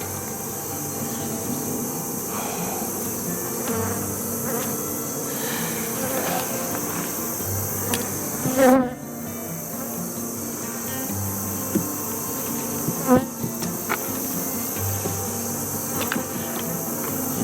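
Honey bees buzzing steadily around a hive during a late-summer nectar flow, a continuous insect drone with a couple of brief thumps near the recording.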